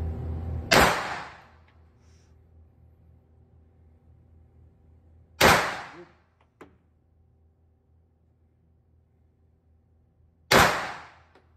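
Three loud, sharp gunshots from a Saiga 9 Kalashnikov rifle at a shooting range, evenly spaced about five seconds apart, each with a brief ringing tail and a faint click between shots.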